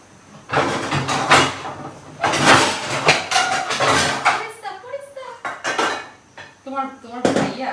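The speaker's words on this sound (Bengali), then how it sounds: "একটা কড়াই নিয়ে নেই," A kadai (wok) is pulled out from among stacked metal pots and pans, giving loud, close clattering and scraping bursts in the first half. Speech follows in the later seconds.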